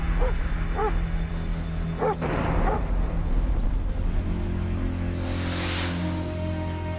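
A domestic dog barking in defense of its territory, a few sharp yips and barks early on rising from a steady low hum, then a brief whimpering yelp, moderately near with no voices.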